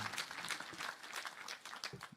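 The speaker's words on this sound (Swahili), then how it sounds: "Tumpigie Mheshimiwa Methu makofi tena." Applause from a crowd at a burial ceremony for a senator's father in Kinangop, Kenya, a faint, distant patter of many hands clapping briefly and steadily.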